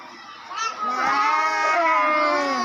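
In a preschool classroom, young children mimic a buffalo, starting softly and swelling into a sustained, loud group of drawn-out lowing moos.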